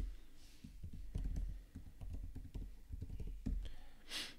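Keys tapped on a computer keyboard while a passphrase is entered for an SSH key on a Fortigate setup, an irregular run of soft close clicks and taps with brief pauses, no voices.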